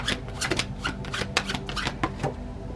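Tarot cards being shuffled during a soulmate card reading, a steady run of crisp riffling and slapping card sounds, fairly close and alone with no talking.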